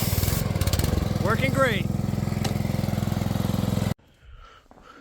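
A DeWalt 3400 PSI gas pressure washer with a freshly replaced AAA pump seal runs loud and close with a steady pulsing engine drone, someone talking over it, until it cuts off abruptly near the end.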